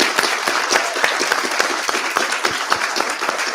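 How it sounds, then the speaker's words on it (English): A large audience at an evening museum rave event gives a sustained round of applause, dense and continuous clapping from many hands filling the space evenly. "So can we just give ETC a massive, massive round of applause?"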